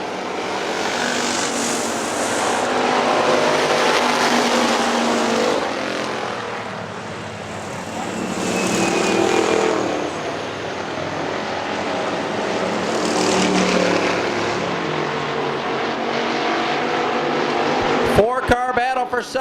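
Factory stock race cars roar around Hartford Speedway Park, their engines a continuous droning wash that swells and fades as the pack passes, while an announcer talks over the noise.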